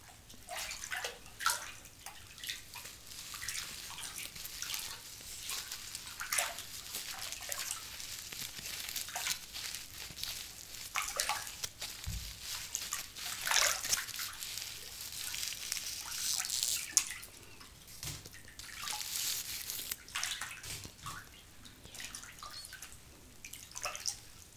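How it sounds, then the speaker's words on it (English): Water runs steadily over hair during a salon-style hair wash, a continuous close splashing wash with scattered drips and soft crinkles, and no talk over it. "I will wash your hair now"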